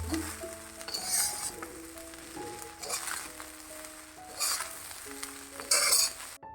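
Chicken fried rice with scallions being stirred and tossed in a pan, with a steady sizzle broken by repeated scraping and clattering bursts as the rice is flipped, close and moderately loud, no talking.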